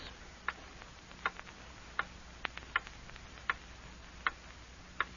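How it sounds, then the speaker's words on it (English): A mechanical clock ticks steadily in a quiet room during a radio commercial break, with about seven crisp, evenly spaced ticks, close and clear, and no voices. "Hear that clock?"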